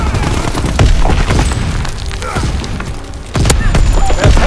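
Loud battlefield din from a WWII game with a tank advancing: dense bursts of gunfire, booms and thuds throughout, with voices shouting over the combat.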